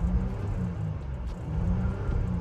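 A Bentley Bentayga with black rims and carbon fibre trim, its engine revved while stationary, a deep steady rumbling drone that swells slightly, recorded up close.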